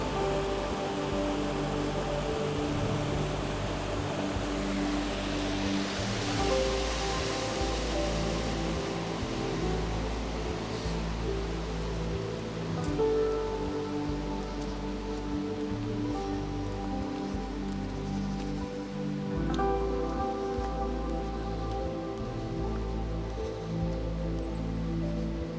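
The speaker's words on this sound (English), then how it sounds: "the water coming off the fells" Water runs down off the fells in the Lake District near Chapel Stile and Elterwater, a steady, broad rushing wash that carries on unbroken and fairly close throughout.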